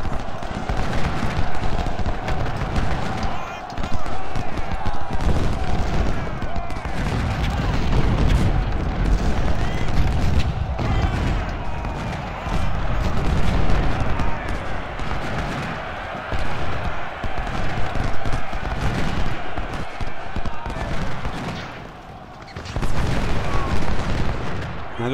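Cannon and rifle fire from the strategy video game Ultimate General: Civil War, set at the Battle of Cold Harbor, form a steady loud barrage of overlapping booms and crackling shots that runs throughout, with speech over the battle.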